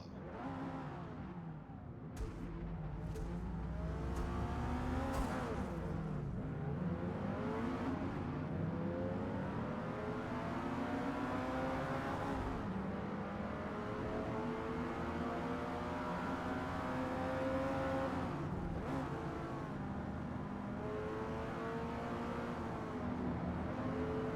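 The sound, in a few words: car engine revving in Forza racing video game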